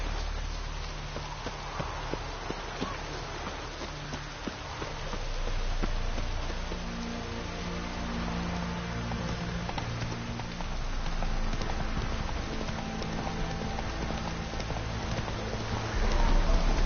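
Roach, Geralt's horse in The Witcher 3 video game, galloping with steady rhythmic hoofbeats over a continuous musical score, moderately loud throughout and building slightly toward the end.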